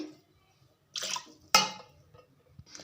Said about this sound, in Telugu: ఇప్పుడు దీంట్లోకి అయితే వాటర్ వేసుకుందాం వాటర్ వేసుకొని ఒక ఫైవ్ విజిల్స్ అయితే పెడతాను